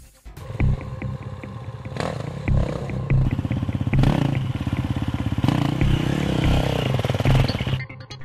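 An enduro motorcycle revs and accelerates over a whoop, its engine barking in repeated throttle bursts with a rapid buzzing pulse, loud and close, punctuated by brief drops between surges.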